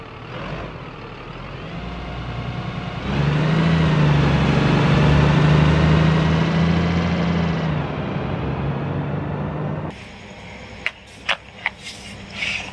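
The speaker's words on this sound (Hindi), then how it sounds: "ये है बस गाड़ी, कितनी प्यारी बस गाड़ी है" A bus engine rumbling and revving, a loud, steady drone that rises and then falls back, followed by a few sharp clicks near the end.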